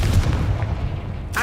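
The Confringo fire spell bursting in the Hogwarts Legacy video game, a loud booming blast with a dense rumbling tail, followed by a voice starting to talk at the very end.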